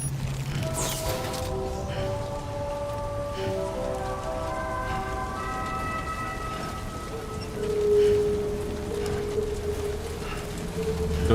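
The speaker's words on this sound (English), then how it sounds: "So it's raining now" Steady rain in the video game Death Stranding 2, a continuous wash of falling drops heard over sustained synth music tones, with no talking.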